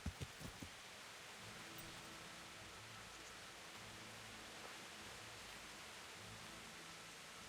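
Rain pours steadily in the video game Kingdom Come: Deliverance, a soft, even hiss of downpour that stays faint and constant after a few brief knocks at the start.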